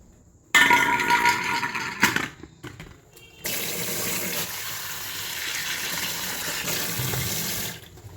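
Tap water gushes steadily into a sink during washing, starting abruptly, pausing briefly, then running strong and continuous at close range for several seconds before cutting off.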